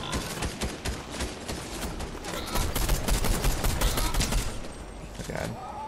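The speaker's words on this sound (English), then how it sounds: "getting shot at from behind now" Dense rapid gunfire comes from behind in a shooter video game, a loud sustained fusillade of overlapping shots lasting several seconds.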